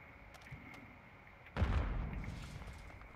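A grenade explodes in the Call of Duty video game: a sudden heavy blast after a quiet stretch, with a booming low rumble that decays over the following second and a half.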